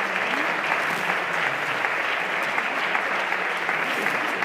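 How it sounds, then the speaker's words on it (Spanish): An audience claps steadily and densely throughout, a loud, continuous round of applause with no talking over it. "Estan aplaudint"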